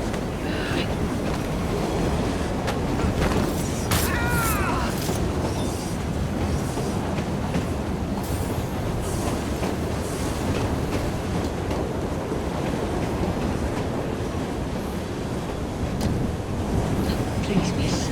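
A train rolls along rails in the video game Assassin's Creed Syndicate, a dense, continuous rumble and clatter with occasional metallic squeals, steady and close for the whole stretch.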